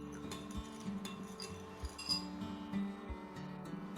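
A spoon stirring sugar into lukewarm milk in a bowl makes repeated light clinks and taps against the bowl in a loose, steady rhythm, quiet and close.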